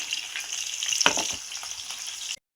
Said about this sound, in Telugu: ఈ ఉల్లిపాయ ముక్కలు ఆయిల్లో నూనెలో బాగా చేంజ్ అవ్వాలండి